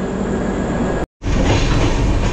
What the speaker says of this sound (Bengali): আর আমার ট্রেন ছেড়ে দিল এখন শিয়ালদার 14 নম্বর প্ল্যাটফর্ম থেকে